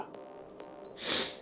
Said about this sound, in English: Here's a cough.